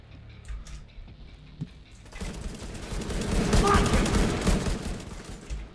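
Rifle fire rattles in The Division 2 as rapid bursts of shots erupt after a quieter lead-in and stay loud and close for several seconds, with a player talking over the game.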